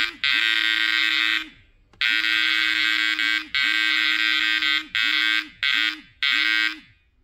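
Mivardi MCA Wireless bite alarms sound a loud electronic tone in repeated bursts, long steady beeps at first, then shorter quicker ones, each with a rising and falling pitch edge, close and alone.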